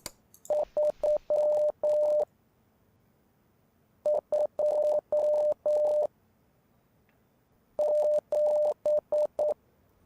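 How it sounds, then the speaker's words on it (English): Sharp, steady electronic beeps of Morse code from a puzzle video game play in three separate bursts of short and long tones with quiet gaps between them. No one talks. "I hate Morse code."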